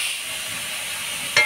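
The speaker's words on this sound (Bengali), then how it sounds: "কাঁচা লঙ্কা দিয়ে ভালো করে নাড়াচাড়া করে নেব।" Green chilies being stirred into a thin curry of live singi fish in a pan, a soft steady sizzling hiss with scraping, alone and fairly quiet, swelling briefly near the end.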